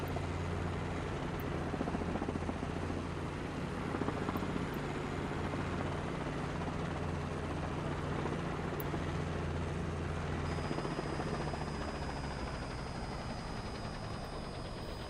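A helicopter engine runs on after the throttle is cut, a steady low droning whine with a rhythmic rotor thrum and a faint high tone entering late, loud and close throughout.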